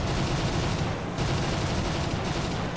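Sustained machine gun fire from an Fw 190 D-12 fighter plane in the video game War Thunder, a dense, continuous rattle of rapid shots with a brief lull near the one-second mark.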